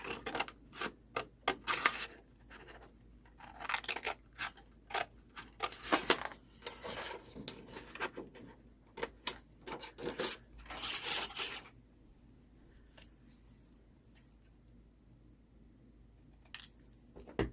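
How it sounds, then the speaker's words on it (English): Scissors cut a pressed-flower journal card out of a paper sheet, a close run of crisp snipping clicks in irregular bursts, then quieter, sparser snips near the end. "So I'm going to cut that one out of the sheet"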